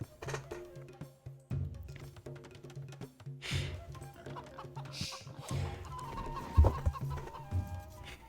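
Chickens cluck in an Age of Empires match on the Arabia map, the short fowl calls scattered over steady game music and interface clicks, fairly close and moderate in level.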